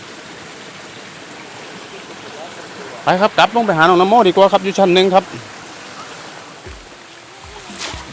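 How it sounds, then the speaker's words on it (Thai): Chanta Then waterfall in Thailand rushes in a steady, broad roar of flowing water that runs throughout, while someone speaks briefly over it partway through. "น้ำตกซันตาเทน"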